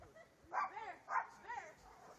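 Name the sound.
dog barking outside in snow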